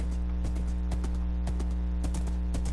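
Horse hooves clip-clopping in Minecraft, a quick run of regular hoofbeats over a steady low background drone, close and moderately quiet, with no talk.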